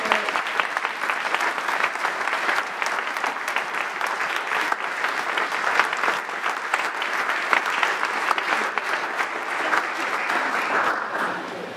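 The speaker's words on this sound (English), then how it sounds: "could everyone please give them a round of applause for their support" Sustained audience applause at a chamber of commerce annual meeting, honouring the board members as they stand; dense, steady clapping from a large crowd that holds evenly throughout and tapers slightly at the end.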